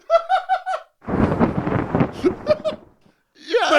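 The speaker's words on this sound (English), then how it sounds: "and louder thunder" A louder thunder sound effect in a comedy bit: a short burst of broad, rushing rumble lasting over a second, preceded by a brief laughing voice and followed by a gap and more vocal noise.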